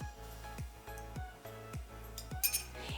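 Small glass repeatedly clinked by a utensil while half the starchy barley water is stirred in, a steady rhythm of light chinks about every third of a second, close and clear with no talk.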